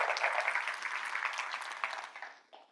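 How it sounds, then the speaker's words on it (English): Sustained applause from an audience at a corporate quiz event, dense clapping that fills the moment steadily before fading out near the end. "Give them a round of applause."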